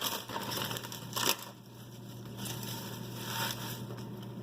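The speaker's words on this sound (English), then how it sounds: "I'm just piling it up and smashing it down and just getting it done. Just give it a coarse chop." Fresh spinach from a 10-ounce package piled on a cutting board and coarsely chopped with a knife, giving a close, continuous crunching and thudding with one sharper knock partway through.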